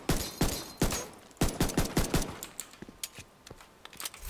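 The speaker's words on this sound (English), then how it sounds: "Look, I've clearly got a suppressor on this gun." Rapid bursts of gunfire from a suppressed weapon in the video game The Division 2, sharp close shots in quick clusters with short gaps and a few fainter trailing pops, sounding barely muffled.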